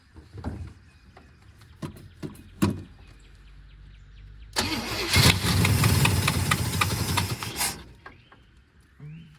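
A 1972 Buick Skylark engine, long unused, sputters to life after its carburetor bowl is filled, catching after scattered clicks and knocks, then running loud and rough for about three seconds before dying away.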